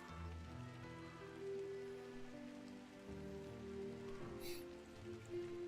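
Drizzling rain on a path in the video game Drizzlepath Genie, a faint, steady patter beneath sustained soft musical tones, continuous and distant with no talk.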